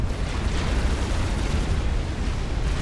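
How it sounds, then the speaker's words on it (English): A battle cruiser exploding in the strategy game Forged Alliance Forever, a dense, loud, rumbling blast that sustains as a continuous roar of debris with no voices. "Boom, the first battle cruiser from TA goes down"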